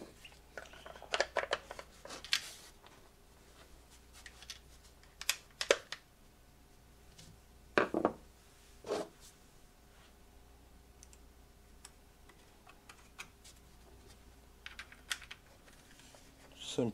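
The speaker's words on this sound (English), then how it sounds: "Get these 3 screws down." Three screws are driven into the original Saiga 12 buttstock by hand, giving scattered close ticks and clicks with sharper bursts at irregular intervals, some faint speech in the background.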